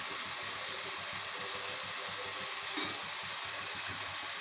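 Potatoes fry in a pan with salt, giving a soft, steady sizzle with a faint rhythmic scraping of stirring underneath and a single small clink near the end.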